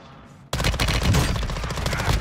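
Loud, close gunfire in the video game Warzone from an MPX: a rapid automatic burst cuts in suddenly after a quiet moment and continues densely to the end.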